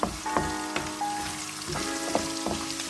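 Chicken pieces frying in a pan for Sri Lankan devilled chicken, a steady close sizzle with occasional clinks and stirring scrapes and no talk.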